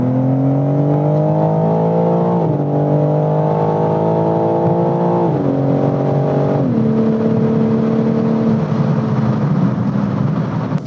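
A BMW M4 Competition engine revving hard accelerating uphill, pitch climbing steadily through several gear shifts, loud and close from inside the cabin.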